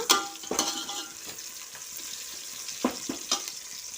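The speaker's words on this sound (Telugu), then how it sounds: "మేమైతే ఇదిగా ఆనియన్స్ అయితే ఫ్రై చేస్తూ ఉన్నా" Onions fry in hot oil in a pan for a mutton curry, a soft continuous sizzle. A few scraping stirs and utensil clinks knock against the pan.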